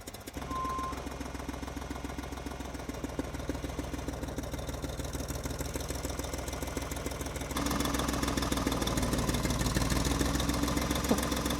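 A tractor backhoe engine runs steadily and close by, a continuous low mechanical rumble with a rhythmic knock that grows louder and rougher partway through, as if revved or put under load.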